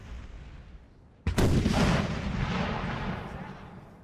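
Artillery in a Napoleonic Total War 3 battle booms out as one sudden loud blast, its rumble and crackle rolling on for a few seconds over a low battlefield din.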